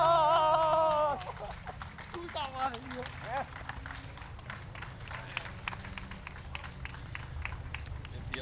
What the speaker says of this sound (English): Applause and handshakes all around.